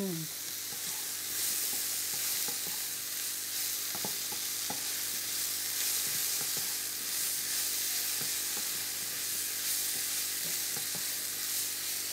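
Chorizo pasta sizzles steadily in a pan with sun-dried tomatoes while it is stirred, giving a continuous loud frying hiss with scattered spoon clicks and scrapes throughout.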